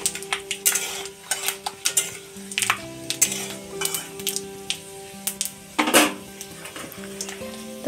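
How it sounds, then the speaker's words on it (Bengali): Whole garam masala spices fry in hot oil in a pan, a steady close sizzle broken by sharp pops and spatters, with clinks of utensils against the pan and soft background tones throughout. "এখানে সব গোটা গরম মশলা ফোড়নে দিয়ে দিলাম, এগুলা হালকা একটু ভেজে নিব।"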